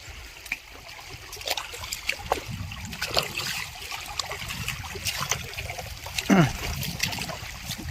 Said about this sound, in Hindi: पानी